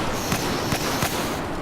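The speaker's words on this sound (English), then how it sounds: "there's these guys who are essentially just firing airbursts and 320s down the hallway" Airburst rounds and 320 grenade launcher shots in a multiplayer video game firefight down a hallway, four sharp blasts at roughly even intervals over a steady, dense bed of battle noise.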